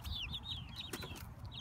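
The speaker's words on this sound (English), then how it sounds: "The striped ones right here are, we believe they're barred rocks. And the white ones are Leghorns." Barred Rock and white Leghorn chickens in a backyard coop give soft, repeated clucks and chirps, fairly close and steady over a low rumble of background noise, with no talk.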